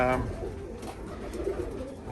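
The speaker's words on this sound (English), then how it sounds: "I have Birmingham roller pigeons, like those two right there" Soft, low Birmingham Roller pigeon cooing murmurs through the clip, with a short burst of sound at the start and a steady hum of background noise.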